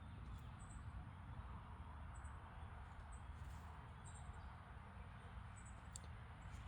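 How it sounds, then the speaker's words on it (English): Faint, distant birdsong with scattered high chirps over a steady low background rumble, no voices. "I hope you guys can hear these birds"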